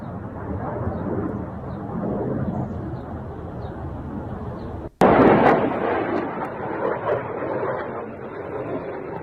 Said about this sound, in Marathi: यात मिसाईलचा आकाशात स्फोट होऊन सर्वत्र धूर दिसून येतोय।